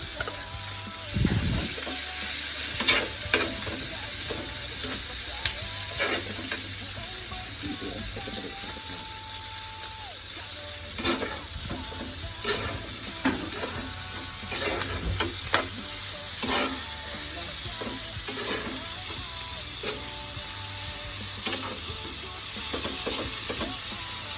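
Kapampangan sisig frying in a pan, a continuous loud sizzle broken by frequent spatula clacks and scrapes, close up, with brief muffled talk and a faint trickle of water in the background.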